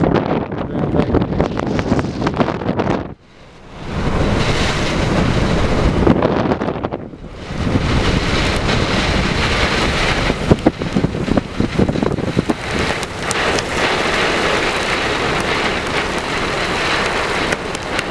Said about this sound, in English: Tornado on the ground. Large tornado. You can hear it.